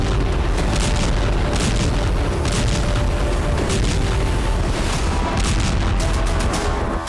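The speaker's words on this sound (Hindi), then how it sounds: "यूक्रेन में ड्रोन और इस्कंदर जैसी मिसाइलों के धमाके हुए।" Blasts from drone strikes and Iskander missiles in Ukraine, a loud, dense wall of booming rumble with repeated heavy thuds running continuously throughout, no voices.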